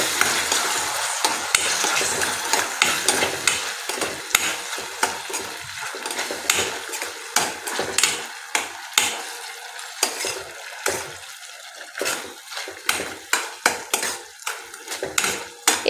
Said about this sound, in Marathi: आणि हे सर्व छान असं मिक्स करून घेऊया।